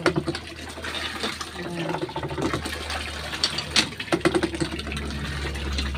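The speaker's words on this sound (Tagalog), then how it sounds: "Ang bomba ng tubig. Nag-aras-aras. Ayan. Nag-bomba ng tubig." A manual hand water pump is worked repeatedly, producing irregular gushes and splashes of water with creaking strokes, while a voice speaks briefly in the background.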